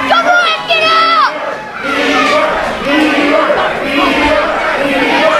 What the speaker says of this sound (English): Crowd chanting Bieber mockingly at Bostic